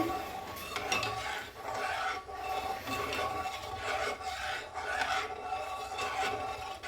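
A spoon stirring and scraping boiling porridge in a pot, rhythmic rasping strokes repeating roughly every second, close and steady with no talk.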